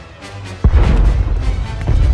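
Explosions and heavy blasts in a Star Wars video game, a sudden loud boom followed by continuous rumbling, crashing battle noise that stays dense and loud to the end.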